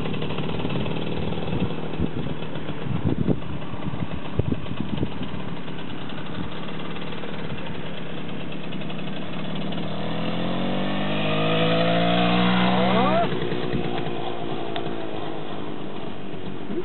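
A Romet Pony motorcycle's small engine runs close by, idling with a buzzy putter and then revving up in a rising, wavering surge before easing off again.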